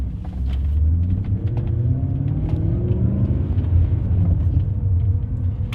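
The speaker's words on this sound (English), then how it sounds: "Put the car in first and get going" BMW E39 M5 pulling away in first gear with stability control switched off, a steady low engine rumble and road noise building gently and holding, close and fairly loud, with no talk over it.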